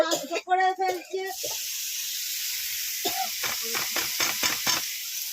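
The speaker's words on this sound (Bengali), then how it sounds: "এই পুঁই শাকের জন্য আমি সব কিছু সবজি দিয়ে কষিয়ে নিলাম" Mixed vegetables sautéing in a pan for a Malabar spinach dish: someone speaks briefly, then a soft steady sizzle carries on with a run of rhythmic spatula scrapes and stirs near the end.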